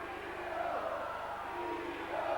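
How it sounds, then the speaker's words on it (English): A rugby league crowd at Sheffield Eagles versus St Helens in 1992 chants together from the stands, distant and faint, as a low, steady roar beneath the broadcast. "The Sheffield crowd get behind them. They're crying out Eagles, Eagles"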